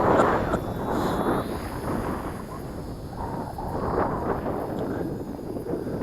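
Steady wind buffeting a microphone in a big open field where a small RC plane is being flown, a loud continuous rumbling roar with gusts swelling and easing throughout and no speech.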